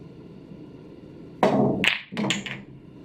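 Pool balls knock together in a three-ball combination shot, several sharp clicks and thuds in quick succession standing out against quiet room tone.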